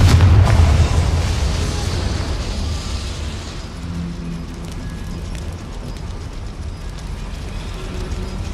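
A Confringo fire spell from the Hogwarts Legacy video game bursts with a loud, deep boom at the very start, then trails off into a long, low rumbling decay over quiet background ambience.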